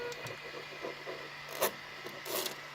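A small 3D-printed dust cap scraped off a 3D printer bed, a series of short rough rubbing and scratching strokes with a couple of sharper scrapes, over a faint steady machine hum.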